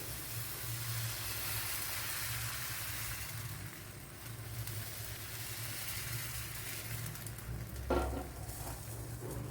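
Batter ladled onto a hot pan for a Kerala-style evening snack, giving a steady close sizzle that holds throughout, with a brief clink of the ladle near the end.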